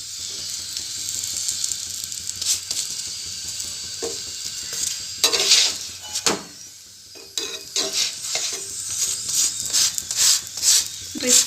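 Paneer paratha frying on a hot pan, giving a steady crackling sizzle with scraping and pressing sounds from turning and flattening the bread, fairly close.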